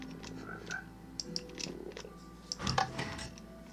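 Quiet croaks from a frog in a Minecraft Build Battle game, scattered short calls mixed with light clicking and keyboard taps, with no voices.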